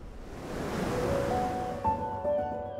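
The Rio Ave in Vila do Conde, Portugal, flowing as a soft, steady rush of moving water with a low breezy wash and a few faint tonal hums, fairly quiet throughout.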